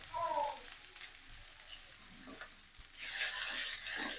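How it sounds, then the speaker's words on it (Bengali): Onions frying in a pan of oil for beef in a traditional Old Dhaka dish, a steady close sizzle that swells louder toward the end. "আবার পেঁয়াজ ভেজে নেব গোশের জন্য"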